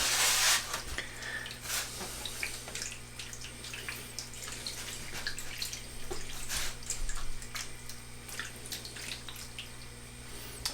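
Running water rinsing a glossy photographic print during ferrotyping, a steady close splashing and trickling stream that lasts throughout with small drips and spatters, no talk.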